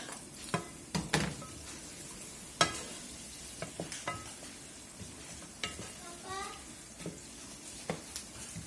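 White onion stirred in a pot for Congolese-style beans, a soft frying sizzle under intermittent clinks and scrapes of a spoon against the pot, fairly quiet and close.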